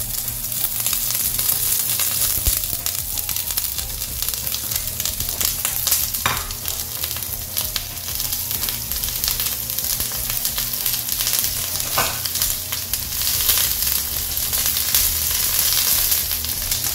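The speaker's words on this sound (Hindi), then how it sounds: "तो सबसे पहले इसमें ऑयल डालेंगे, इसके बाद हमने ये राउंड प्याज काटे थे वो डालेंगे," Round-cut onion slices fry in hot oil, giving a loud, dense, continuous sizzle that barely changes. A couple of faint stirring knocks sit under the constant crackle.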